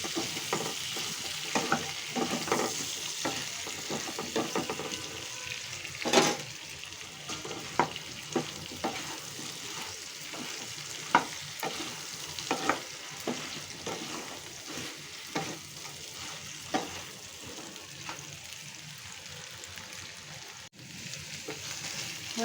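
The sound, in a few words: frying potatoes and pointed gourd with turmeric in a pan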